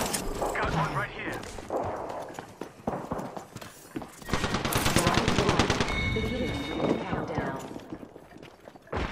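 Gunfire from an attacking squad in a combat game: loud, rapid machine-gun bursts and scattered shots, with galloping hoofbeats, voices talking over the fighting.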